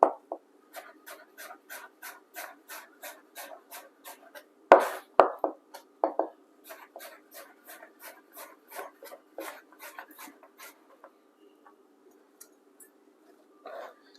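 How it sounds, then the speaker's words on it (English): A knife slices peeled chocha (chayote) into strips on a board, giving evenly spaced, crisp close-up chops in a steady rhythm that briefly quickens midway and then thins out, with no one speaking. "So now I'm gonna cut it into strips."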